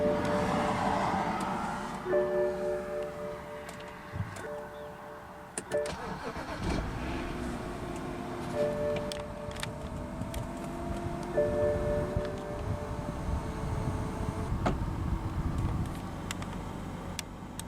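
A 2011 BMW X5 xDrive35i starts from inside the cabin: chimes and a starter crank, then the engine catches and settles into a steady, fairly loud idle hum with no talk.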